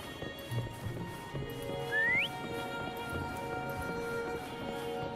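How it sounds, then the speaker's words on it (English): A single rising whistle, the kind used to call a companion in the video game Wuthering Waves, sounds once over soft background game music and ambience. "Try whistling."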